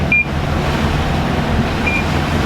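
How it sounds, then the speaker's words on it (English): Two short, high electronic alarm beeps about two seconds apart sound over a low, steady engine hum aboard a sailboat. "Gosh darn alarm."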